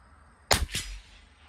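A CZ 457 LRP rifle fires a single shot of Lapua Super Long Range supersonic ammunition, a sharp, loud crack with a brief ringing tail, followed by quiet.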